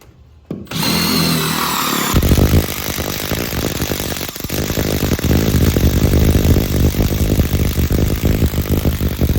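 A power drill runs loudly and steadily for several seconds after a short start, drilling near clevis hangers in a contractor warehouse, grinding continuously at close range with slight fluctuations in load.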